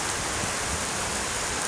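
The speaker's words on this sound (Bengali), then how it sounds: "এই যে দেখেন, অঝরে নামছে বৃষ্টি।" A heavy downpour roars in an unbroken, even wash of noise, loud and close throughout, with no voices.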